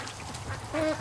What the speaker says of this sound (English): there's a whole bunch of ducks down at the lake